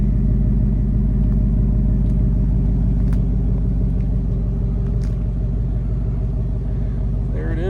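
A 2024 Ford Mustang GT with the 5.0 V8 idles with a deep, steady, pulsing rumble, loud and close throughout, with a brief voice near the end.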